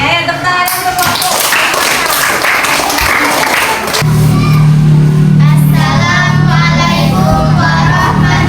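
Clapping in a primary school classroom during a lesson fills the first four seconds with loud, dense claps mixed with voices, then gives way to close, steady speech.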